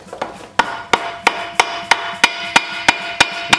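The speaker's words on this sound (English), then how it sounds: "And then you just take a hammer," A hammer lightly taps gasket paper laid over a part on a Bolens Ridemaster garden tractor under restoration, about eleven sharp, evenly spaced close knocks in a steady rhythm.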